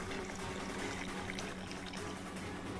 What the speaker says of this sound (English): Makes for fun pours.